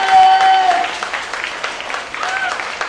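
Audience clapping at the close of a Shakespeare stage performance of The Taming of the Shrew, a dense burst of applause loudest at the start that thins slightly, with a voice speaking over it.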